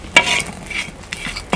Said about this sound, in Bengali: পালং শাক রান্না করার জন্য শুটকিটা বেজে নেব